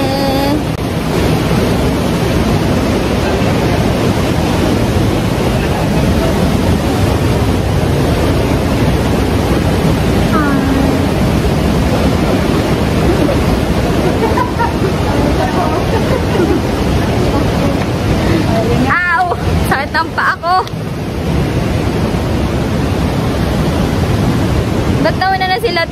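Maria Cristina Falls roaring as a loud, steady wash of broadband rushing water that fills the whole stretch, with faint voices and brief handling noise near the end.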